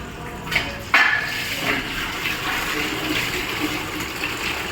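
Water runs through a filter in a steady, fairly loud rush, with a couple of brief knocks near the start before the flow settles into an even stream.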